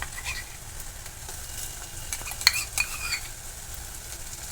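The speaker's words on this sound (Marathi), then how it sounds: "अद्रक लसूण व्यवस्थित आपण तेलामध्ये फ्राय करून घेतलेला आहे" Ginger-garlic paste fries in oil for a home egg masala curry, giving a low steady sizzle with a spoon scraping and clinking against the pan now and then.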